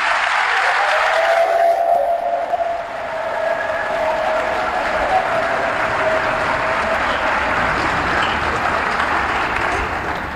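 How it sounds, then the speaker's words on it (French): Sustained audience applause fills a hall at the opening ceremony of the FHIC festival's fifth edition in Pointe-Noire, a steady dense wash of clapping from a large crowd lasting throughout with no speech over it. "je vous invite une fois de plus, mesdames et messieurs, à lui faire une salve d'applaudissements"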